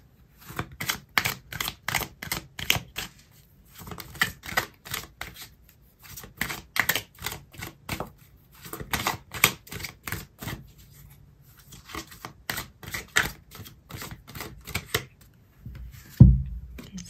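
Tarot cards being shuffled and drawn up close, heard as dense bursts of quick riffling clicks and flutters separated by short pauses, ending with a soft thump.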